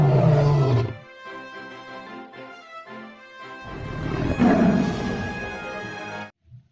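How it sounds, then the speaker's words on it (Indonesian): A Sumatran tiger lets out a long, loud roar lasting several seconds, rising and falling with a rough tonal growl before cutting off abruptly, with no talking. "Wow, ini harimau Sumatera."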